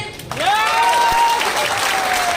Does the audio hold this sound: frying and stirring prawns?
no